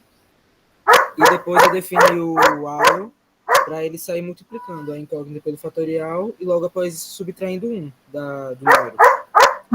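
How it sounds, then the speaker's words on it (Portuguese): Pet dog barking indoors in a rapid series of loud, sharp barks at the start and again at the end, with someone talking at length in between. "Desculpa o barulho do meu cachorro latindo"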